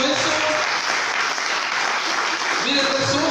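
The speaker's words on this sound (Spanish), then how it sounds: "Den un aplauso al Señor" A church congregation claps steadily, a dense, sustained applause filling the room from start to finish, with a voice faintly heard beneath it.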